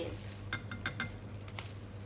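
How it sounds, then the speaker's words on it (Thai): Taro deep-frying in oil over medium-low heat makes a faint, steady sizzle, with a few light clicks and scrapes from a utensil scattered through the short span and no talking. "จากนั้นนำลงทอดเลยค่ะ"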